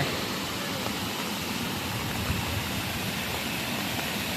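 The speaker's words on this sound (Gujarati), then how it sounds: "ફરી એકવાર ફ્લો થઈ ગયું છે તો કેટલું બધું પાણી થાય છે" A dense, continuous roar of water overflowing a village dam pours steadily without pause, loud and close, with no voices.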